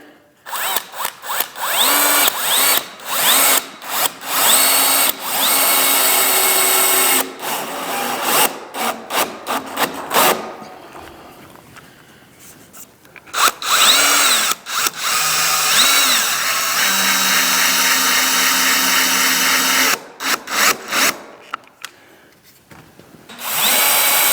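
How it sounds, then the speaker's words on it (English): A power drill drives screws into the frame of a pre-hung interior door, with long whirring runs broken by brief pauses and some creaking of wood, loud and close. "Okay, now we can put our screws in."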